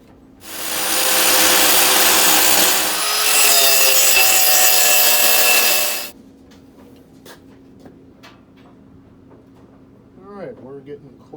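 Angle grinder cutting into a CETME metal trigger housing, a loud continuous harsh whine lasting several seconds close up, then stopping abruptly, followed by quieter handling noises and a brief voice.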